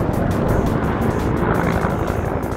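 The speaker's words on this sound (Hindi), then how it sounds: "अपाचे हेलीकॉप्टर की ये आवाज" Apache helicopter flying overhead, a steady loud broadband rotor and engine roar with rapid blade chop, continuous and unchanging throughout without voices.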